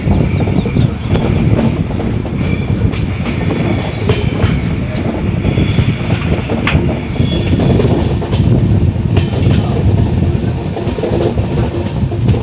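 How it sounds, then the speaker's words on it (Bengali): Train 15655 from Guwahati to Katra, hauled by a WP7 locomotive, rolls along the rails with a loud, steady rumble and rhythmic clickety-clack of the wheels close by, with occasional squeals. "ট্রেন নিয়ে চলেছে, ছুটে চলেছে মাতা বৈষ্ণো দেবী কাটরার উদ্দেশ্যে"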